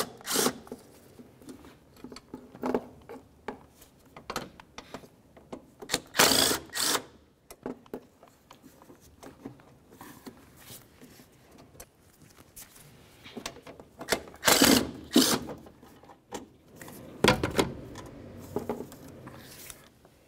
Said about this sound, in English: We're going to start removing the wiper motor from the area. You'll find that you have 3 bolts holding it in place.